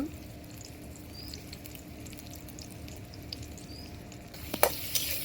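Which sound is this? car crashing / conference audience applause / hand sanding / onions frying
onions frying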